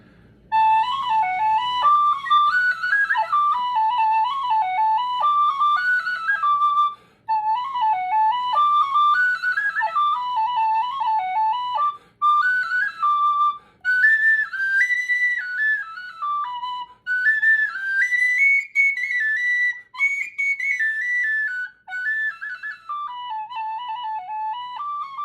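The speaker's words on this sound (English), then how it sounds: "That's called the Siege of Ennis." A tin whistle plays the Irish dance tune the Siege of Ennis, fast and ornamented. The melody climbs into shrill high octaves, and short breath gaps break the phrases. It is loud, close and solo, with no talking.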